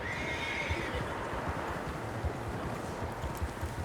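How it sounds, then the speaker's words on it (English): Horses whinny and neigh with hooves clip-clopping on open ground in the Red Dead Redemption 2 video game, a steady wash of wind and movement beneath several loud, close calls. "Horses, quite a few of them."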